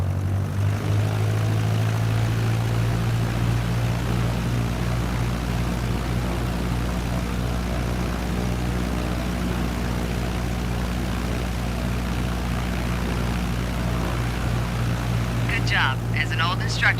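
Propeller airplane rolling down a runway after landing in Microsoft Flight Simulator, a continuous loud engine drone that stays steady throughout, with a voice talking over it.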